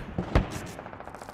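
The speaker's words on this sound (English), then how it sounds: "Is that our own artillery that just hit me?" A friendly artillery shell from the military shooter game Squad bursts once with a sharp, heavy boom. Fainter impacts come before it, and a rattling, crackling tail follows.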